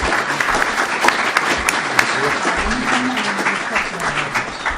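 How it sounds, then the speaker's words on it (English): Sustained applause from an audience for panelists at a cybersecurity hearing, steady dense clapping at even loudness throughout, with a few voices faintly underneath. "So let's give a round of applause to our panelists for their great work."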